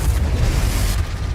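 A Confringo fire spell explodes in the Hogwarts Legacy video game, a loud, dense, booming blast that fills the whole short moment without any voices.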